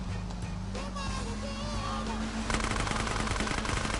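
Rapid machine-gun fire rattles against a boat in GTA San Andreas, a dense burst of shots that grows louder near the end, with game engine drone and background effects underneath.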